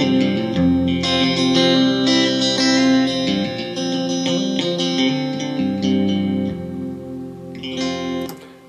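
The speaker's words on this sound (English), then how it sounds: "this is a spring reverb emulator" Electric guitar played through a spring reverb emulator pedal, loud sustained chords and notes with a splashy, lingering reverb tail, played alone without talk.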